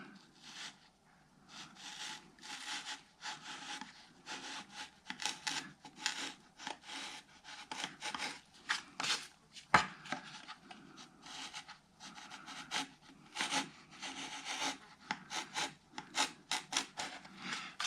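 A hand chisel pares and scrapes along the wooden braces of an acoustic guitar top in a quiet workshop, with short repeated rasping strokes, close and fairly soft, and one sharper knock partway through.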